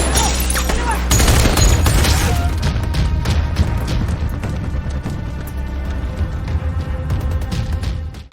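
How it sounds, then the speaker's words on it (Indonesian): Heavy gunfire in a film shootout, with a booming blast, then dense rapid volleys of shots and crashes rattling on loudly, partly under faint voices. "mereka kini melakukan baku tembak dengan musuh di luar ruangan"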